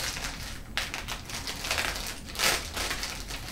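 A package of IV drip tubing being torn open, crinkly tearing and rustling of plastic wrap in several uneven bursts, close and moderately loud with no voices.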